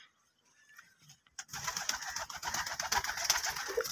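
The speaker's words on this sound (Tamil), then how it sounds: "நல்லா புறா" Pigeons in a home loft, soft low cooing and rustling starting after a near-silent opening, then continuing steadily at close range with no talking.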